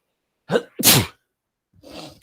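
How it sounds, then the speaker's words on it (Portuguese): A sharp, close sneeze with a quick inhale just before it, followed by a softer breathy sound after a short pause. "Vou espirrar."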